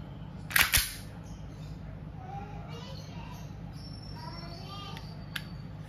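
A WE airsoft Glock 17 Gen 5 pistol fires two quick sharp snaps in close succession, followed by a quiet stretch with faint background sounds.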